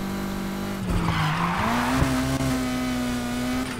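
A car skids under handbrake in the street-racing game Need for Speed Heat, with a steady engine drone and a long tire squeal sweeping up and down, close and loud, no voices.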